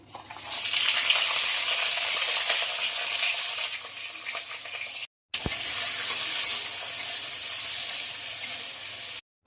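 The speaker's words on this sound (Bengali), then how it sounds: "তেল গরম হয়ে গেছে সব মশলাগুলো একসাথে একটু ভেজে নেব" Whole spices hitting hot oil in a wok for a yogurt chicken dish, erupting into a loud, close sizzle that holds steady, breaks off abruptly and then resumes just as strongly.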